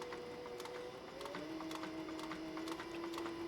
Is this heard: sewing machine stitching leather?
yes